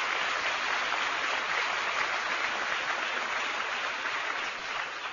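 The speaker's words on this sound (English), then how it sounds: "Let's give all these former governors a round of applause." Audience applause for a group of former US governors at a National Governors Association gathering, a steady dense wash of clapping heard alone and sustained without pause, easing slightly at the very end.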